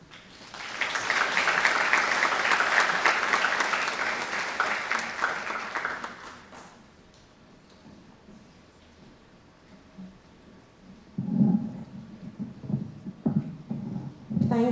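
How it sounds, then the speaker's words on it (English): Audience applause at a Model United Nations opening ceremony, a dense, loud wash of clapping for about six seconds that fades out, followed by quieter hall murmur and low thumps near the end. "can we just have another round of applause for Rotary District 7030 and Rotary International"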